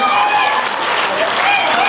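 Gala audience at a Miss Centrafrique Canada pageant in Montréal applauding the contestants, a dense, loud, sustained wash of clapping and cheering from a full hall.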